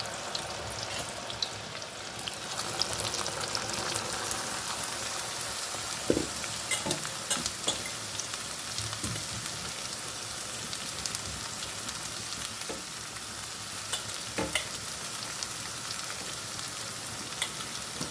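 Cut mango pieces frying with curry leaves in hot oil for mango pickle, a continuous close sizzle with intermittent stirring scrapes and taps spread across the whole stretch, no talking.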